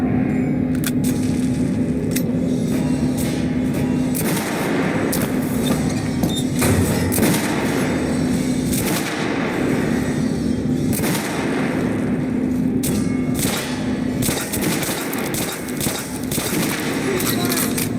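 Gunfire from the video game Metro: Last Light comes as a dense, loud, continuous barrage of shots and rumbling blasts, with crackling reports layered throughout.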